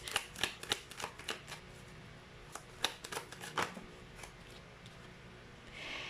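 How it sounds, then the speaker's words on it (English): A deck of tarot cards is shuffled up close, producing a quick series of crisp riffling and slapping bursts with short pauses between them and no talking. "you're seeing me shuffle as always"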